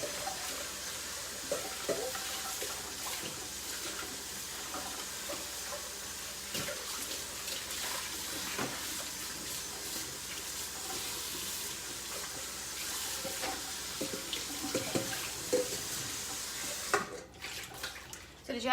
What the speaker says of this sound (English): I'm gonna wash something,